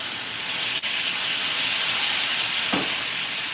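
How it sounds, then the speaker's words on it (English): A hot pan deglazed with apple cider vinegar gives a loud, continuous steam hiss that stays constant throughout, with a brief clatter near the start and no voices. "We can certainly deglaze with the apple cider vinegar."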